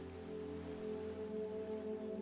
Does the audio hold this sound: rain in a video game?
yes